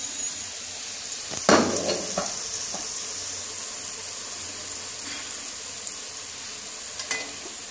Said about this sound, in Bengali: সাদা তেলে আমি ভাজছি বড়াগুলো।